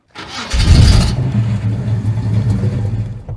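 A 1953 Chevy custom truck engine cranks and fires, then settles into a loud, close, throaty idle that rises slightly as it revs, with no one talking.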